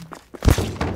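Sniper round striking the player in a shooter video game: a single heavy, close thud with a sharp broadband crack, preceded by faint muffled game sounds and followed by a brief decaying rumble.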